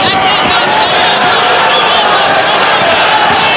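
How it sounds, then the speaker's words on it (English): A partisan arena crowd in Boston roars steadily at a boxing match, cheering for Marvin Hagler against Willy Warren; loud, dense, continuous cheering and shouting without letup. "A very partisan crowd here in Boston in favor of Hagler, who comes from Brockton."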